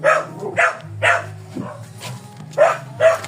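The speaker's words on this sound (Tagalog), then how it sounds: "At yun ang aso." A dog barks repeatedly at close range, six or so short sharp barks in an uneven rhythm over a low hum.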